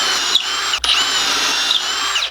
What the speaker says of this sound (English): instead of drilling into the end grain, you're actually drilling outside of it